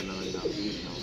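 Soft coos from a large flock of pigeons blend into a dense, steady background murmur, the calls low and muffled rather than standing out clearly.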